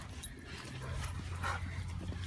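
A dog out on a morning walk whimpers and yips faintly, its thin whines sitting over a steady low outdoor rumble with no talking.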